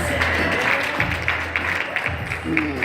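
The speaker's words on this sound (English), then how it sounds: "give him a round of applause" Audience at a 2017 national dropout conference applauding Christopher, a steady spread of clapping with speech and low hum mixed underneath.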